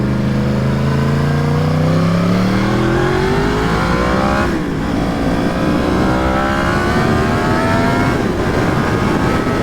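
A Yamaha FZ-10 motorcycle accelerates hard on a highway. Its loud, close engine note climbs in pitch through the gears, drops briefly at each upshift, and runs continuously under steady wind rush.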